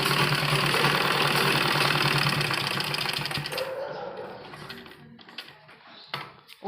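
A sewing machine double-stitches the neckline of a kurti. A loud, steady whirring run fades and stops about halfway, followed by quieter handling noises.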